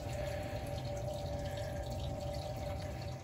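Water draining from an old 40-gallon atmospheric draft gas water heater, a steady running, trickling flow with a faint tonal hum, continuous and close.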